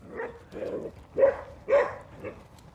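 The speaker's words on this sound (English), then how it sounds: "let's get past the barking dogs" A few barks from dogs at a distance, in short bursts spaced around a second apart, moderately loud with faint background noise.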